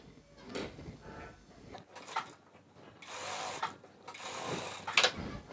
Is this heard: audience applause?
no